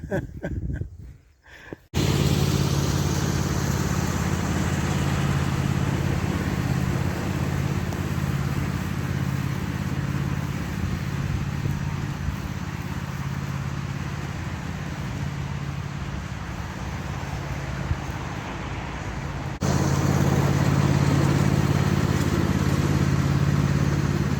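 A small red tractor engine runs steadily and loudly up close while working a wooded area, holding an even drone with a slight rise in level near the end and no talking.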